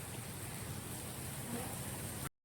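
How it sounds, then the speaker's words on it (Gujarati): Steady rain keeps falling on arrival home from Bhanvad, a soft, even hiss of water that runs unbroken throughout at low volume. "હજી પણ વરસાદ ચાલુ છે"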